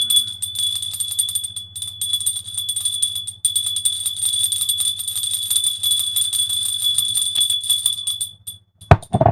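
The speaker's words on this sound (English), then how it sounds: "There's the bell." A bell rung as a sound effect during a live commentary stream, ringing out steadily and loudly with a bright sustained tone for about eight seconds before cutting off abruptly.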